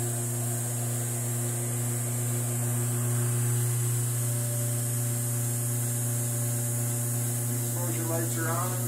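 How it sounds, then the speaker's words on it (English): A steady mechanical hum and drone runs throughout, close and constant, from the vacuum pump of a large LED exposure unit, with a faint warbling tone near the end. "This unit has a 20-second vacuum time"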